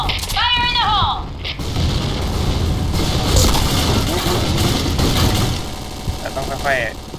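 A grenade goes off in a shooting video game, a muffled boom in the middle of continuous gunfire and engine-like game noise, with voices talking over it.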